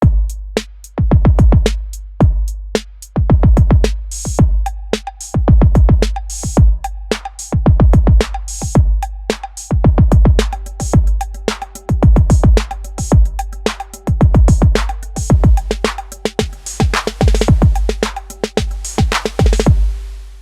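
An electro drum beat runs steadily, with booming 808 kicks, a snare built from 808 and Juno sounds, and crisp 808 hi-hats, loud and driving with no voices.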